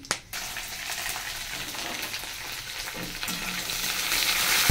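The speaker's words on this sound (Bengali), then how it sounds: "পরে আমি দিয়ে দিলাম লঙ্কা, আদা, রসুন। ভাজা হয়ে যাক।" Whole spices with chilli, ginger and garlic sizzle and crackle steadily in a hot pan, a continuous close frying hiss that grows slightly louder toward the end, with occasional stirring scrapes and no talking.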